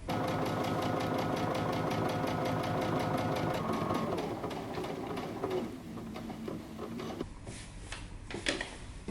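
A sewing machine runs a steady stitch along a pant leg seam of a jumpsuit, a fast, even mechanical whirring and ticking up close that slows and tapers off into lighter clicks near the end.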